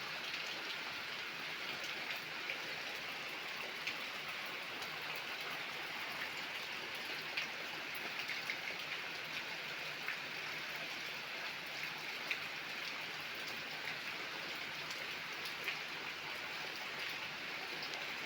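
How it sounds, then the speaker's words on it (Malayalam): Heavy rain pours steadily and evenly, a dense, unbroken wash of drops close by with no voices and no lulls. "മഴ എല്ലായിടത്തും ഉണ്ട് ഭയങ്കര മഴ"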